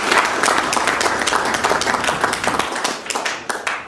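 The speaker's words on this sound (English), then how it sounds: "Let's clap hands for ourselves." An audience in Harare claps their hands together in sustained, dense applause that holds steady for several seconds before thinning out near the end.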